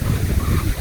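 Loud wind buffeting the microphone in an outdoor garden, a steady low rumble with no pauses or voices.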